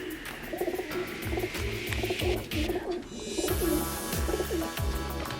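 Several Kamanger pigeons coo in a steady, repeating pattern of low throaty calls, close by, with faint rustling and a busier stretch of background noise later on.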